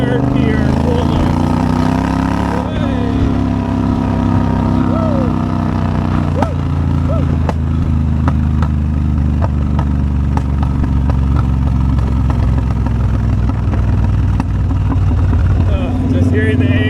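A Triumph Bobber motorcycle engine riding in third gear, with a loud, steady low rumble whose pitch slowly falls as the bike comes off the throttle, heard continuously up close.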